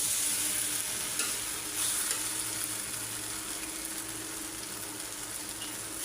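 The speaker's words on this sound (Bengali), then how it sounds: "মশলার মধ্যে ভালো করে ভাজা ভাজা করে নিলাম" Spices fry in a pan with a steady sizzle and occasional stirring scrapes, a continuous hissing crackle close by, no voices.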